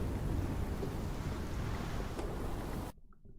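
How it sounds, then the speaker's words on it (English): A thunderstorm raging, a dense roar of heavy rain with rumbling thunder, loud and continuous before cutting off abruptly near the end. "4 weeks the storm had raged on."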